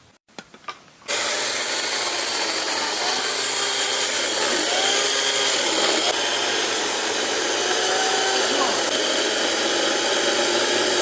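A battery electric chainsaw starts after a couple of light clicks and then runs steadily through wood, a loud continuous motor whine with cutting noise that stays close for about ten seconds.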